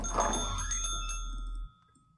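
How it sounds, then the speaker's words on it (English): An old-fashioned cafe doorbell chimes in a visual novel video game, a bright metallic ring that sounds once and decays over about a second and a half before fading out. "I gaze around the cafe's interior while the old-fashioned doorbell rings behind us, signaling to the staff that customers are here"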